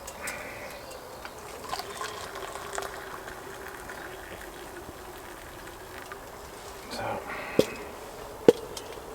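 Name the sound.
water poured from a Kelly kettle into a cup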